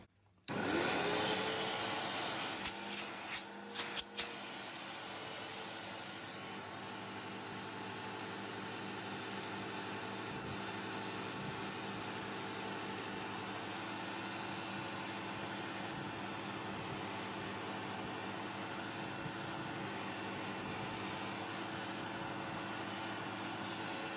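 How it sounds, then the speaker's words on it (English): A SEBO X series upright vacuum cleaner starts up and runs with a loud, steady, even roar that holds for over twenty seconds, with no one speaking. "So the Sebo X series has got one heck of suction on it"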